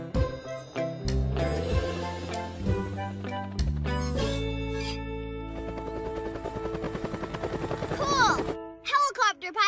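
A cartoon helicopter whirs along in a kids' animated show, its rapid chopping rotor pulse running steadily for several seconds over bright background music, with brief voices and sound effects around it.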